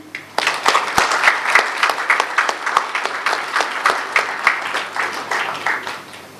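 Audience applause at the grand opening ceremony of the Lovebird Society of Karachi, welcoming Karimullah Bhatti on stage: dense, loud clapping from a crowd that starts abruptly and continues steadily with distinct sharp claps poking through.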